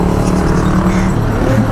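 A Yamaha NMAX scooter fitted with a turbo and a JVT V3 pipe, its engine running loud and steady up close in one short continuous burst with a throbbing exhaust note.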